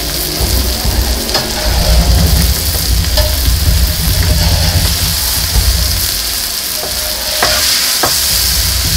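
Smashed burgers sizzle on a hot griddle, a loud, steady frying hiss close by with occasional scrapes and light metallic clinks scattered through it.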